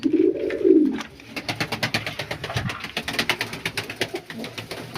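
Pigeons coo in a cage, a loud close coo in the first second followed by a steady run of wing flaps and cage rattling as fancy pigeons slip out through a door blown open by the wind.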